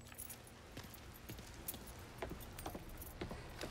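Car keys jangle in the Mafia III video game, producing faint, irregular metallic clinks over a steady low background hum.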